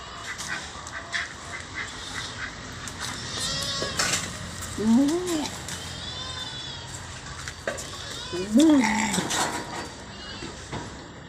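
A goat bleats twice, loud and wavering, several seconds apart, over a busy background of faint chatter and rustling.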